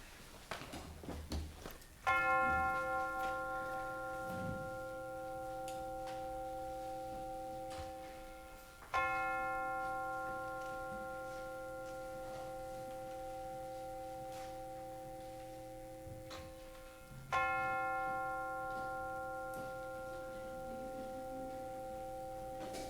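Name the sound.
bell rung to begin a church service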